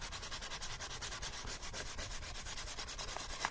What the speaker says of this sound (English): But sometimes you can just sand them